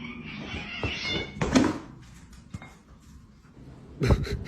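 A cat meows a few times, short cries spaced apart, close and moderately loud against a quiet indoor background.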